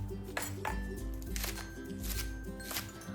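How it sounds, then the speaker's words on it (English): Knife slicing half an onion and cutting green onions into bite-sized pieces for kimchi, a quiet series of crisp chopping taps on a cutting board, about six or seven cuts in an uneven rhythm. "Slice a half an onion and cut some green onions into bite-sized pieces."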